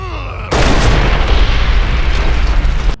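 Gunfire in the video game Fallout: New Vegas Dead Money, a sudden loud blast that kicks in after half a second and rolls on as a dense, continuous roar of shots and explosions.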